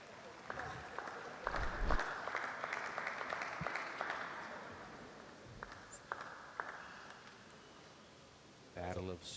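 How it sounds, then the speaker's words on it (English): A crowd cheers and applauds at a Seattle vs. Portland table tennis match. The clapping is moderately loud and fairly distant, swelling over the first few seconds and then thinning out to scattered claps. "letting the crowd be his vocal supporters here."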